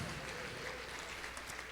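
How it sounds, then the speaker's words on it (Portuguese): Congregation in a church clapping, a faint, steady patter of applause heard from a distance for a brief moment. "Aplauda, aplauda e glorifique ao Senhor."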